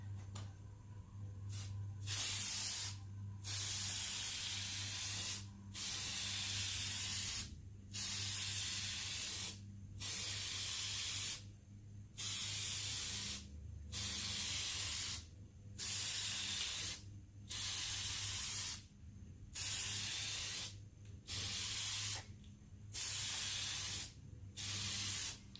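A headlight restoration kit's spray can lays a second coat on a car headlight in a garage, about a dozen loud, steady hissing bursts separated by short pauses, close up and without talk.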